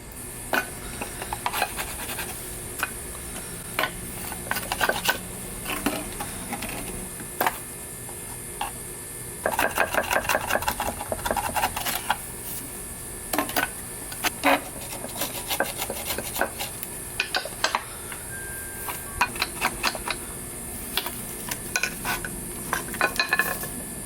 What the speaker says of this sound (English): decided to put this down on the floor just to make it a little bit easier to scrape off